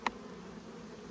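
Buckfast honey bees hum faintly and steadily during a hive inspection, a soft, low buzz after a brief, sharp tick at the start.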